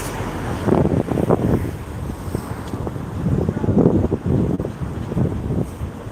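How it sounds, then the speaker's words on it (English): Strong wind buffets the microphone in low, rumbling gusts that rise and fall beside the Nogawa River in Tokyo in the evening, with no voices over the roar. "I'm getting a bit windy here again."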